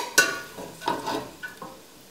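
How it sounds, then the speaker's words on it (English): Spoon stirring onions cooking in a pan, a few short scraping, sizzling strokes spaced out over a couple of seconds, close and moderately loud. "I'm going to take my spoon and kind of stir that around."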